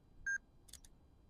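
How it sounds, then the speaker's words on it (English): A camera on a two-second self-timer outdoors by a lake in a park gives one short, clear electronic beep, then a quick pair of sharp shutter clicks, with no other sound. "2-second timer."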